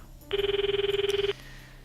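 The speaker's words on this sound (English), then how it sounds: "Eventually, after a minute of ringing, the electronic sound suddenly cut off." Inside the Steins;Gate 0 video game, a single electronic phone ringing tone trills for about a second in a rapid pulsing burst, clear and alone.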